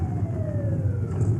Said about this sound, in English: And the sounds of the motorcycles are almost as loud as the sirens